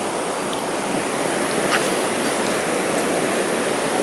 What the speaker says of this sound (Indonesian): sayup-sayup terdengar air yang deras sungai di Sekar Langit ini